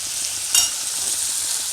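Boiled cluster beans fry in a pan over a low gas flame, a soft continuous sizzle with one brief louder spatter or stir near the middle, close and without voices.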